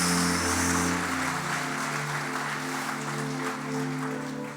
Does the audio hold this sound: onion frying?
no